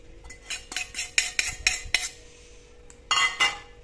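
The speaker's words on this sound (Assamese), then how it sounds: "কুটি দিম এখন কাটা চামুচেৰে সহায়ত দি দিছো" A fork beats eggs in a bowl for an omelette curry, quick metallic clinks and scrapes against the dish in a rapid uneven run, then a pause before a second short flurry of beating.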